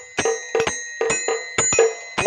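A small mini aarti machine bell rings in quick doubled strikes, bright metallic clangs repeating steadily about every half second, loud and close with no voices.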